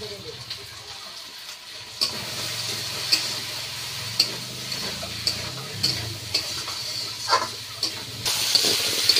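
Kashmiri chili powder and spices sizzling in a hot pan while being stirred, a steady low frying hiss broken by regular scraping strokes of the spoon.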